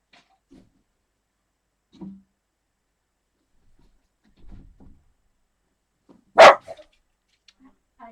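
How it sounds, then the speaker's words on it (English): A single loud dog bark rings out in a mostly quiet space, with a few faint yips and scuffles around it. "There will be some barking."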